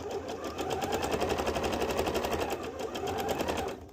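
A sewing machine runs steadily for about four seconds, stitching fabric for a dress with a fast, even mechanical chatter that stops abruptly at the end.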